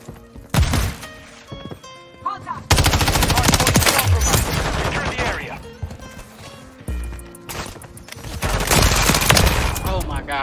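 Dense gunfire from the MTZ 556 rifle in Call of Duty Modern Warfare 3, with rapid automatic bursts and loud stretches of sustained shooting, over game effects and occasional voices.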